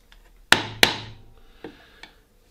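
Two sharp mallet blows strike a carving chisel cutting a chip-carved wooden rosette in quick succession, followed by two lighter taps, close and crisp with short wooden ringing after each hit.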